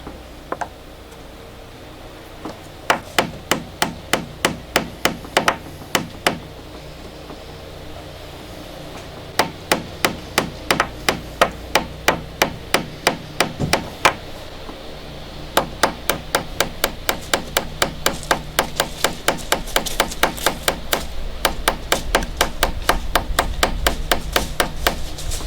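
Repeated sharp hammer taps drive a plug into an old blind hole in a boat transom during a Montauk restoration, coming in quick rhythmic bursts with short pauses, then a steady run of evenly spaced blows, close and loud.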